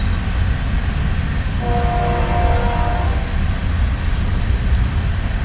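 A train rolls through a golf course at Daytona Beach, giving a steady, moderately loud rumble with a brief tonal horn-like hum in the middle.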